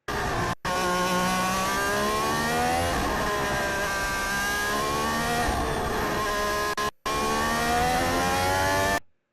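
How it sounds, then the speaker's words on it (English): A Formula 1 race car engine revs up repeatedly at the Monaco Grand Prix, pitch climbing and falling in loud sweeping bursts, with brief cuts of silence between runs. "So you can hear that revs build, okay?"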